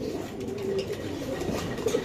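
Pigeons coo softly in a low, continuous murmur among large birds kept at a pigeon market, faint and steady with a little background noise.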